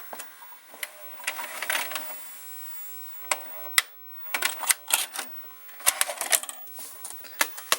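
A Mitsubishi VCR ejects a VHS tape with a string of mechanical clicks, whirs and clunks in irregular bursts, close and fairly clear with brief quiet gaps between the movements.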